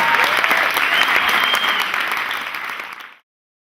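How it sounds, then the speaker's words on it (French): A hall crowd claps loudly for a club's equipment manager and team at a sports club's title celebration, dense applause that gradually thins and then cuts off abruptly. "alors vraiment un grand applaudissement à lui et à toute l'équipe."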